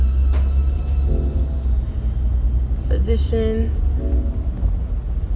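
A car engine rumbles steadily at low pitch throughout while parking in a hospital car park, with a person talking over it close by.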